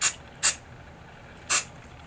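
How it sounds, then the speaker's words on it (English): Silicone spray dusted onto the gears of an open VFC Avalon airsoft gearbox, three short sharp aerosol hisses, the first two close together and the third after a pause, near and loud. "I'm going to grab the silicone spray right here, and I'm going to kind of just dust my gears."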